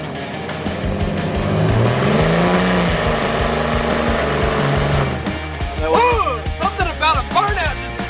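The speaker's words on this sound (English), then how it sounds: "They were just doing burnouts and stuff." Car doing burnouts, its engine roaring loud and sustained with tire squeal, then revving in sharp rising and falling bursts toward the end; voices may be faintly mixed in.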